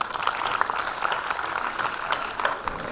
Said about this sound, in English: Can we just give ourselves a warm applause?